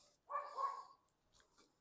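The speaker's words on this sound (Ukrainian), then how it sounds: "А там уже і собака намалювався." A dog gives a short, fairly close bark-like yelp and whine in a kitchen where fish is being prepared, quiet overall with no talk over it.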